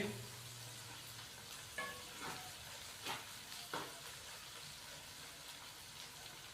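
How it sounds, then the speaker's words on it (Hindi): Ginger and garlic paste fries lightly in a pan for a bhindi chicken dish, a soft, faint sizzle with a few scraping stirs at intervals. "अदरक और लहसुन के पेस्ट को अच्छे से मिक्स करेंगे और हल्का सा फ्राई करेंगे ताकि इसका कच्चापन खत्म हो जाए।"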